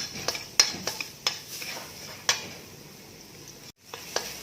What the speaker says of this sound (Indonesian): minyak sayur panas, masukkan bawang putih, tumis sampai wangi